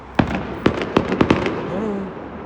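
Fireworks bursting over Brighton during a city display: five or six sharp, loud explosive bangs in quick irregular succession, each trailing off into crackle and a low rumbling echo.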